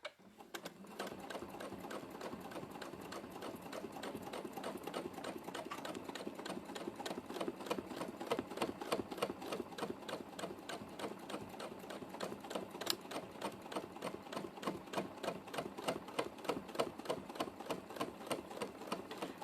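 A sewing machine doing free-motion quilting through metallic thread with a blunt needle chatters in a rapid, steady, chunky stitching rhythm, close and continuous throughout.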